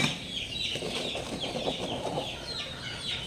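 Chickens cluck steadily around a feeding spot where chicks are being given water, with repeated close clucks and a soft busy background of fowl noise, no talking.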